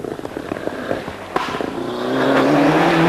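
Ford Escort Cosworth rally car driving on a Scottish rally stage, its engine note rising into a loud, sustained rev that builds steadily after a sharp crack, near and alone without talk.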